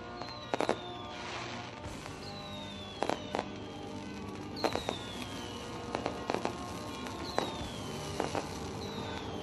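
Fireworks go off on a Friday night at a sprint-car speedway: scattered sharp pops and cracks, some whistling rockets, over a constant faint crowd and outdoor wash, heard from a distance.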